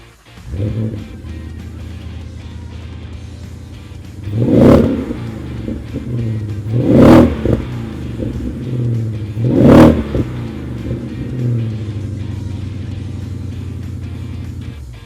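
A powerful Shelby Supersnake Speedster engine idles with a deep rumble, then revs sharply three times in succession, each rev rising and falling, loud and close.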